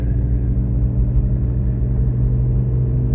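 A 2001 Ford Focus drives in third gear, giving a steady low engine rumble and road noise heard from inside the car, even and continuous throughout.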